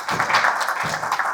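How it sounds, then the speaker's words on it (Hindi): An audience at the CONNEX25 HR conference breaks into steady applause, a dense wash of clapping hands filling the room without pause. "तालियां और"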